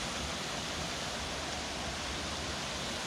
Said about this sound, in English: this is the Spirit Mountain Falls